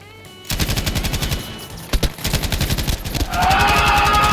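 Rapid automatic gunfire from a Battlefield V match, loud and close, with bursts of machine-gun fire continuing through the clip and an intensifying, denser barrage toward the end, no voices heard.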